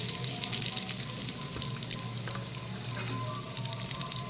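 Chopped chutney ingredients fry in hot oil in a kadai, giving a dense, steady sizzle and crackle up close, loud and continuous with no speech.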